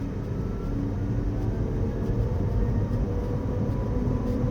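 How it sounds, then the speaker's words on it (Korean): Cabin sound of a Ferrari SF90 Stradale hybrid supercar driving on electric power, a steady low motor drone with road rumble, continuous and fairly loud throughout. "모터의 작동음이 매우 생생하게 들립니다."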